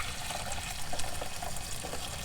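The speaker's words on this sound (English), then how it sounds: "I've boiled my kettle, red hot. I'm going to put the water in the pan." Freshly boiled kettle water pours into a cooking pan in a home kitchen, a steady, hissing rush of liquid that runs continuously without speech.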